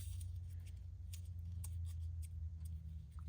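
Scissors cut a paper tag with a series of small, faint snips and crisp clicks over a steady low hum in a quiet room.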